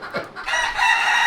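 Farm chickens in the coop, with bright, overlapping clucking and a rooster-like crow rising over them in a short burst.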